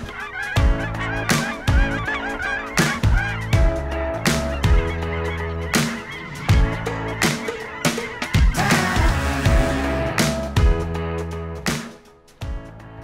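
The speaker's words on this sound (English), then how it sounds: "it's the most geese I've ever seen in the air before" Geese pass overhead in a huge flock during a waterfowl hunt, honking loudly and continuously in a dense, overlapping chorus that swells and then thins out near the end.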